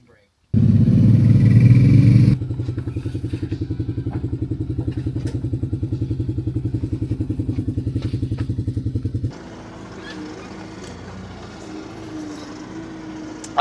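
A vehicle's engine brake on the road, heard from inside a car: a loud, rapid, pulsing low rumble that starts abruptly, runs for several seconds, then cuts off, leaving quieter road noise.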